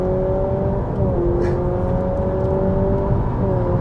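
Synthetic engine sound from a 2022 Honda Civic e:HEV hybrid plays as steady tonal hums that step up in pitch while accelerating, loud and continuous over a deep rumble of road and cabin noise.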